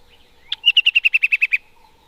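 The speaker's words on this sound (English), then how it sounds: "The sharp, rhythmic trills of a vibrant crested barbet pierce the lifting fog" A crested barbet gives one sharp call, then a quick run of about ten evenly spaced trilling notes, loud and close. The bird calls alone over a quiet dawn background in foggy African thicket.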